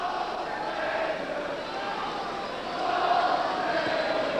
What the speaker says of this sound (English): The Altrincham fans, never say die fans, still cheering their team on.